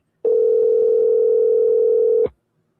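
A telephone tone sounds during a call: a single steady electronic tone holds for about two seconds, loud and clean, then cuts off abruptly into silence.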